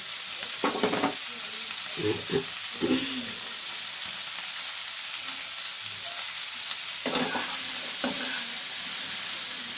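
Beans, capsicum, carrot and cauliflower sizzle and fry in a pan, with a steady hiss and scattered scraping stirs from a spatula, close and continuous, with no talking.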